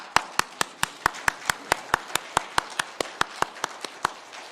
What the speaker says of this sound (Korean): 영광의 박수를 한번 올려드립시다